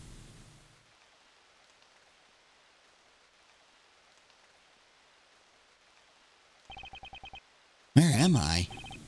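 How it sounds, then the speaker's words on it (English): Steady, faint rain hiss in a scene from the video game Ace Attorney Investigations, then a brief run of beeping text blips and a loud musical sting near the end. "It wasn't raining like it is now when I made the drop-off."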